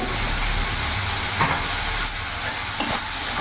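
A large tomato and onion sizzle steadily in a frying pan for an egg curry, a close, even frying hiss with a couple of faint stirring scrapes and no talking.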